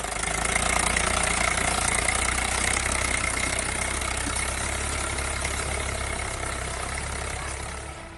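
Tractor engine driving over a cauliflower field in Samastipur, Bihar: a loud, steady, mid-to-low diesel drone that runs without pause and eases off slightly at the end, with no talk.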